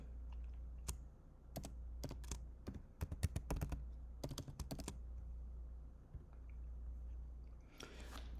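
Close, quiet typing on a computer keyboard as a DappNode password is entered, a short run of irregular key clicks over a low steady hum.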